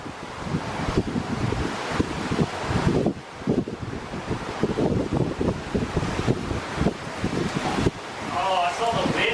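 Strong gusting wind roars across an outdoor mini golf course, buffeting the microphone steadily throughout while people talk and react in the background.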